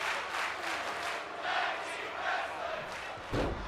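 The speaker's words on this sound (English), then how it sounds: "Crowd loving this match. Chanting tag team wrestling." A video game crowd chants during a WWE 2K25 tag team wrestling match, a steady roar of many voices rising and falling in waves, with a louder surge near the end.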